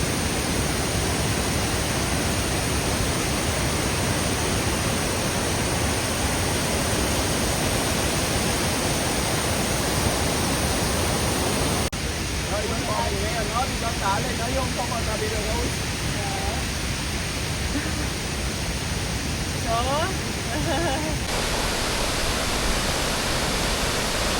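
Waterfall rushing beside a pavilion at a Thai tourist spot, a loud continuous broadband roar filling the whole stretch, steady and close, with faint chirping birds partway through.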